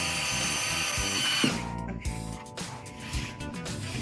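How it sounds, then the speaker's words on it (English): A power drill bores holes in a wooden speaker kit cabinet, with a loud, close whirring burst that cuts off and is followed by quieter, intermittent spin-downs and mechanical clicks. "We got 4 holes drilled."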